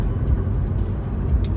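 White 2009 BMW 130i M Sport two-door hatchback driving, a steady low engine and road rumble heard from inside the cabin.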